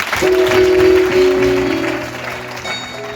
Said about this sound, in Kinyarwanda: Ndabasaba ngo dukomere Imana amashyi ku bantu.